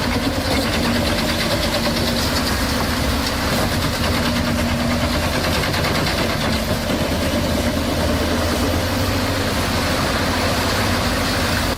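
A large wood chipper with a throat nearly four feet wide runs at a logging site, its engine a loud, steady, unbroken drone with a constant low hum throughout.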